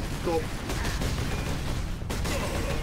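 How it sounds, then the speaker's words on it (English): The Vengeance Launcher fires in the Space Marine video game with dull, muffled bursts amid a dense wash of battle noise. A voice can be heard faintly in the mix. "This is where the Vengeance Launcher comes in."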